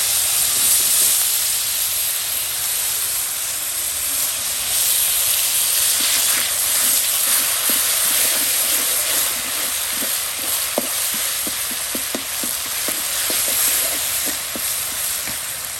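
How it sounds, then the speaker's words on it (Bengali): Cumin and bay leaves sizzling in hot oil for a tempering, a loud steady hiss close by with faint scraping taps of stirring in the latter half. "জিরা, এই যে জিরা তেজপাতা সব কিছু কিন্তু দিয়ে সুন্দর করে সম্বাদ করা হচ্ছে"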